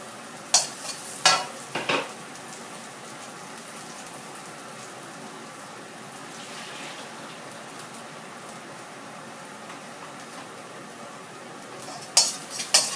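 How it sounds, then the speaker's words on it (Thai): Garlic sizzling in a little oil in a pan for stir-fried bitter melon, a steady frying hiss broken by a few sharp utensil clanks and scrapes near the start and end. "ใส่น้ำมันลงไปค่ะนิดนึงนะคะ ตามด้วยกระเทียมเลยค่ะ"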